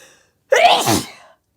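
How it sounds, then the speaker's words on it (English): A single close, loud sneeze bursts out abruptly and trails off. "I'm gonna sneeze."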